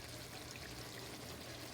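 Roughly two cups of water pour in a steady stream into a pot of brown stew turkey neck gravy, a soft, even, continuous splash heard faintly up close.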